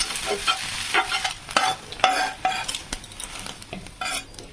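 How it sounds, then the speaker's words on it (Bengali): Eggplant fries in oil for chow mein while a steel spatula scrapes and clanks against the pan in irregular strokes, each stir punctuating a soft, continuous sizzle heard up close, with no talking. "এটা চাউমিনের জন্য ভাজছি দু ভাজা করে দেবো"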